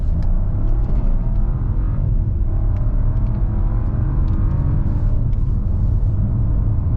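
A 2024 Chevy Trax 1RS accelerates hard from a standstill to 60 mph, its engine a steady droning rumble heard from inside the cabin, with a gear shift partway through and no talking.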